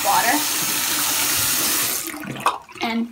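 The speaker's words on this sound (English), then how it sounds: "So I'm just gonna put water on it," Hot water running from a tap onto a soft cloth gives a steady, close splashing rush that stops partway through, after which a few brief knocks and handling sounds follow.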